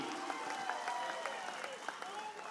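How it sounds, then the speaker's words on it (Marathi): Crowd applause at a Shiv Sena district political rally in Satara, a quiet, fairly distant wash of clapping that holds steady throughout, with no talk over it. "हात वर करायचा, जोरदार टाळी."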